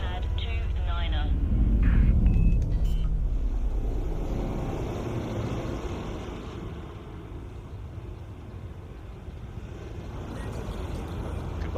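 A spaceship settling onto a station landing pad in Elite: Dangerous on PS5: a broad engine rumble and thrust roar that swells early, then eases into a steady low hum with faint mechanical clicks.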